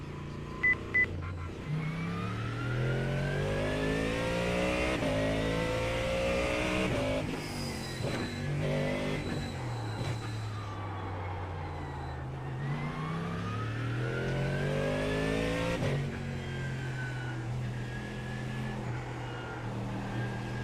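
Race car engine in the iRacing sim at the Nurburgring: continuous loud engine note climbing through the revs, dropping sharply at each gear change and rising again, heard close with no talking.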